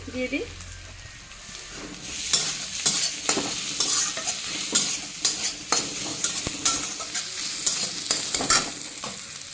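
Chopped ginger and green chili frying in a pan, a constant hissing sizzle broken by regular scraping stirs of a spatula, close and fairly loud, with no talk.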